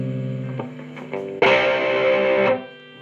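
Electric guitar chords played through heavy grunge-style distortion on a Peavey Studio Pro 112 Transtube amp with an Ibanez Artist AR220, a thick buzzing strum ringing out loud for about a second before cutting off.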